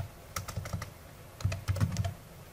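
Typing on a computer keyboard: two short flurries of soft, close key clicks and taps over a quiet background hiss.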